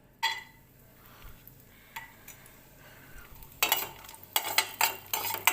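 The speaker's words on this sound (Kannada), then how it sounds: "ಅದಕ್ಕೆ ಈಗ ಗೋಡಂಬಿ ದ್ರಾಕ್ಷಿ ಸ್ವಲ್ಪ ಹುರ್ಕೊಳ್ಳೋಣ" Cashews and raisins frying in ghee, with a soft sizzle under scattered metal clinks and scraping from a stirring spoon against the pan, growing into louder bursts of stirring toward the end.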